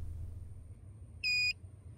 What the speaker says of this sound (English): wait for about 10 seconds until you hear a beep, indicating that you successfully entered the programming mode.